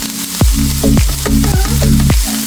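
Tuna frying in a pan with spice powder and black pepper stirred through, loud close sizzling punctuated by a series of sharp spatula knocks and scrapes, several in quick succession, no voices.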